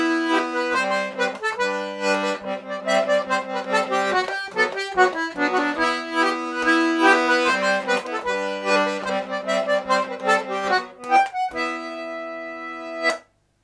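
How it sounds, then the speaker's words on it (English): A D/G melodeon plays chords without basses, its reedy right-hand tones pulsing in a lively, continuous rhythm, loud and close, ending on a held chord that cuts off abruptly. "playing with chords and no basses, sounds a bit like this"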